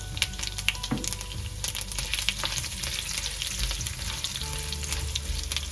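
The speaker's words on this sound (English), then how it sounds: "and the fennel seeds, and just stir that, and then add in your dried chilies" Fennel seeds, urad dal and dried chilies crackle and sizzle in a hot pan, close and continuous, with scraping stirs and light clicks of spatter throughout and no talking.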